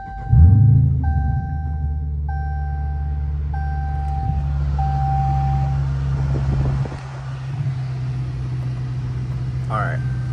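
A Dodge Challenger R/T engine idles with a steady low rumble after a short startup burst, while electronic chimes beep at the start and people talk nearby.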